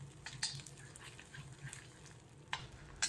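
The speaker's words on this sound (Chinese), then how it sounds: "放入准备好的咸蛋黄，先将蛋黄炒出香味" Salted duck egg yolks stir-frying in oil in a hot wok, a quiet sizzle broken by a few sharp scraping clacks of a spatula on the metal, close and faint.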